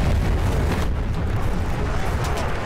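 A heavy, sustained explosive roar from a bomb blast in the Battlefield 1 story mode's final mission fills the moment, loud and close, rumbling low and steady with no clear break.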